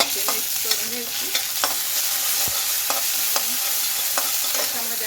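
Ginger-garlic paste sizzles steadily in a hot pan while a spoon stirs it in repeated scraping strokes, close and fairly loud, with no talking.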